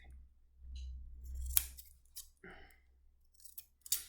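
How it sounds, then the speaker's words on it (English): Scissors trim the corners of a sewn fabric coaster diagonally, giving several quiet, close snips and crisp blade clicks spaced over a few seconds, with no talking. "we just want to cut the corners off diagonally"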